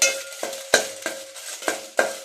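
A spoon scrapes and stirs through an ingredient frying in a pan for a tothapuri raw mango chutney, making about six evenly spaced, crisp strokes over a low, steady sizzle, close and fairly quiet, with no talking.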